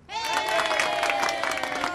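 A crowd cheers and applauds at a women's gathering, a loud dense burst of clapping and voices that starts abruptly and holds steady, with a bright sustained tone riding over it.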